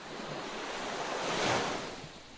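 Ocean waves wash onto a shore as one broad surf swell rises to a peak and then recedes, with some wind noise and no voices.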